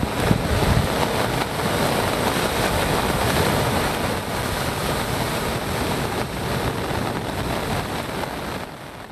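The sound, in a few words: rough sea waves crashing on the shore during a cyclone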